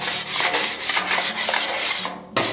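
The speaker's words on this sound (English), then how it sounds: "First step, scrape it clean." A dirty Blackstone griddle being scraped clean with a metal scraper, giving loud, close, rhythmic rasping strokes about every quarter second, with a brief pause before a final stroke.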